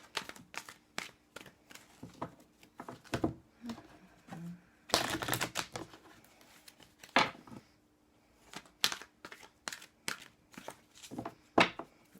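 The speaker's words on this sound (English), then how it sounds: "One more shuffle." Tarot cards being shuffled close up, bursts of quick riffling and flicking clicks separated by short pauses, with a brief faint murmur in between.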